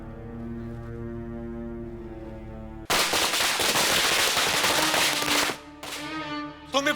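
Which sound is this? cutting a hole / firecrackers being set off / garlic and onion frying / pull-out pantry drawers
firecrackers being set off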